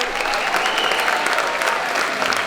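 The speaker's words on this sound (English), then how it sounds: "Let's give our award winners a round of applause" Audience at a high school senior awards night applauds its award winners, a steady, dense wash of many hands clapping close and loud for the whole stretch.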